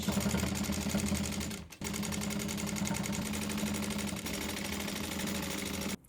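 A sewing machine back-stitching along a quilt coat collar runs as one loud, continuous, rapid mechanical whir, breaking off for a moment partway and then carrying on steadily to the end.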